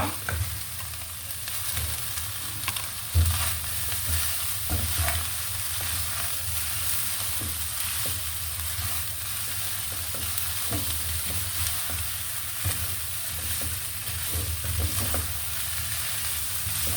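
Ground meat and eggplant sizzle steadily in a hot pan with occasional stirring scrapes, a continuous close frying hiss with no talking.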